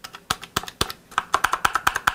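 Steady typing on a mechanical keyboard with clicky Kailh Blue switches, a close, crisp series of sharp clacks that starts uneven and speeds into a quick, regular run of keystrokes.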